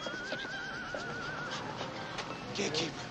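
A horse's neigh from the 1984 film Ghostbusters, a short, quavering whinny heard faintly within the movie soundtrack alongside a brief clip-clop of hooves.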